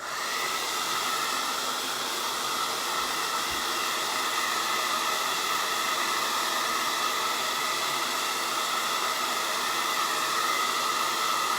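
A hair dryer blows a steady, loud hissing whoosh at close range to dry paint on a door hanger craft. It keeps running without a break for the whole stretch.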